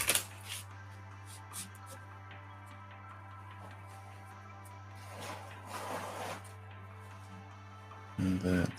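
A deck of tarot cards is shuffled by hand in short, soft riffling bursts separated by quiet stretches, close up over a low steady hum, with a louder burst at the end.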